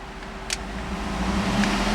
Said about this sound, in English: Keep an eye on the tachometer. I'm going to rev the engine.